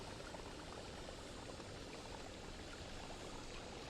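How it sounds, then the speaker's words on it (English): Water poured in the Noita video game, a soft, continuous fizzing and bubbling stream at low volume, steady for the full few seconds, with no voices. "I'm going to try to just pour water in."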